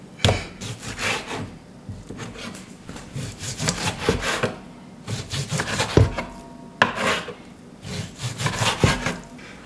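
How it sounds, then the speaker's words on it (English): Rhythmic rasping strokes of a blade being sharpened, in repeated bursts with short pauses between sets, close by and fairly loud, with no talking. "I'm gonna sharpen my knife."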